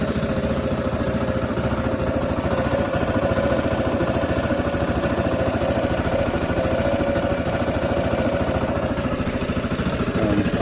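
A CSC RX3 motorcycle engine, just fitted with a new spark plug, runs steadily at idle with a continuous mid-pitched rumble and mechanical clatter, close and even for the whole stretch.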